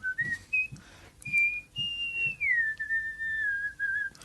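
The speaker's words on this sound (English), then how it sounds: "A whistling woman." A woman whistles a wavering tune in short rising phrases, then a long sliding note that drifts downward, clear and close with small pauses between.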